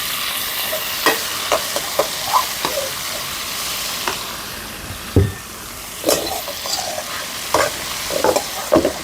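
Garlic cloves and tomatoes fry in a pan with a steady sizzle, broken by repeated scraping and stirring strokes close by; no voices.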